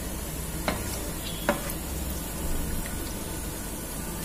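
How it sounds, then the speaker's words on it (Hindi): Mushrooms are added to a masala sautéed in ghee and stirred in. A steady close sizzle runs throughout, with two sharp utensil clinks early on and softer stirring afterward. "अब इसमें हम मशरूम ऐड कर देंगे।"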